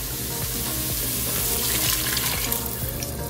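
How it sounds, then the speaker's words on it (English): Chicken broth poured into a hot pan of cooking chicken, a close, steady liquid stream over bubbling sizzle with rhythmic splashing that swells briefly in the middle. "we're gonna go ahead and start adding in all of our wet ingredients"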